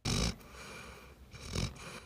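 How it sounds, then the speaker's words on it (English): A dog snores in a quiet public library: two rasping, breathy snores about a second and a half apart, close up, with a soft hush between them. "So quiet, you can hear Willa snoring as Eli reads to her."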